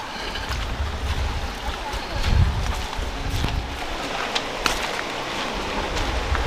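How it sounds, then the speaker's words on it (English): Waterfall at a hillside site in Stony Hill, Jamaica, heard as a steady broadband rush of falling water, moderately loud and continuous, with a few brief knocks and rustles nearby. "So guys, I can hear the waterfalls."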